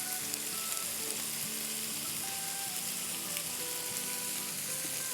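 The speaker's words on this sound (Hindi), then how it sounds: "तब इसमें हम डालेंगे 2 टेबलस्पून दही, 4 टेबलस्पून टोमेटो प्यूरी" Yogurt and tomato puree sizzle in the masala for tawa pulao on a hot tawa, giving a steady, even crackle and hiss that holds throughout with no voices.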